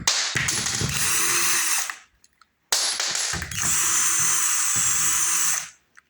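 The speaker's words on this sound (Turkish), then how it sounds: "Şimdi şu vidaları şuradan çıkarıyorum." A power drill whirs in two long bursts with a short pause between, close and steady, like screws being driven out of a broken door under repair.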